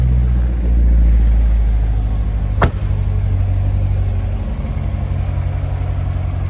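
A 2017 Corvette Grand Sport 3LT convertible idles with a deep, loud rumble, one sharp blip near the middle, then settles back to a steady low engine note.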